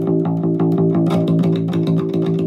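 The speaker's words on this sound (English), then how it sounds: "hear that scraping sound?" Rapid picked guitar notes with a rough, scraping rasp on each stroke, a rhythmic grind of the pick on a round wound string, played up close.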